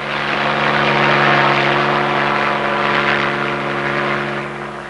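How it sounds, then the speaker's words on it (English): A helicopter flies nearby in a TV drama rescue scene, its rotor and engine a loud, steady droning roar that swells slightly and then eases toward the end, with no speech. "Go ahead and get the copter out on the line."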